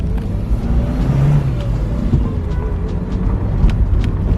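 A Toyota Celica GT-Four engine runs and revs, a low droning rumble that swells and eases with a couple of brief climbs in pitch, close and steady, with faint wind noise behind it.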